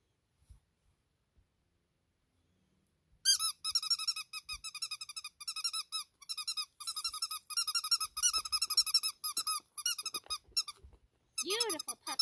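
Six-week-old puppies squeak and whine in rapid, high-pitched bursts close by, after a few quiet seconds, continuing in a busy, uneven stream.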